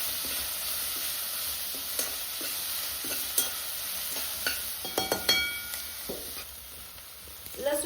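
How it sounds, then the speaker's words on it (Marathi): Onions frying in oil in a pan until browned, a steady close sizzle broken by scattered clinks and scrapes of stirring, with no voices. "कांदा आपल्याला मस्त लाल होईपर्यंत तळून घ्यायचा आहे"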